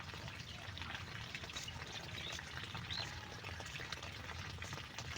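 Water poured from an irrigation hose while watering plants, a soft continuous trickle and splash, faint and steady without speech.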